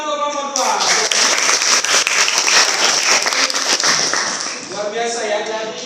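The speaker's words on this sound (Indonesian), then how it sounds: "tepuk tangan untuk kelompok 2" Classroom group of students applauding in a guidance session, dense sustained clapping that rises after a brief spoken lead-in and fades near the end, with voices at the start and close.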